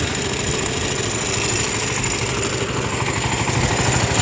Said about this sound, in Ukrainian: Тепер показую, як воно працює. Запускаємо генератора.